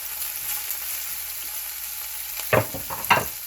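Bell peppers, onion and garlic hit hot oil on a stove, giving a soft, steady frying hiss with two louder crackling bursts of sizzling as the vegetables are stirred near the end.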